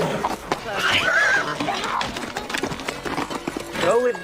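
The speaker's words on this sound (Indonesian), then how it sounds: "Selama 1 hari 1 malam mereka menempuh perjalanan dengan menunggang kuda." Horses carrying riders on a long journey whinny and neigh while hooves clip-clop beneath, loud and close, with a voice speaking over the scene.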